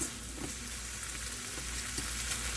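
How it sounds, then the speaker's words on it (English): Tortilla rolls frying in a little oil in a pan give off a steady, close crackling sizzle with faint bubbling, continuous and even throughout with no talking. "put a little oil in the pan, throw them in there, and sort of heat them a little bit"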